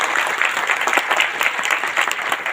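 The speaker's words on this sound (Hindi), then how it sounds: "परवीन राय जी के लिए जबरदस्त ताली का बजाइए" An audience gives a loud round of applause for the chief guest, Parveen Rai, at an event. The clapping is dense and sustained, a steady roar of hands close by from start to finish.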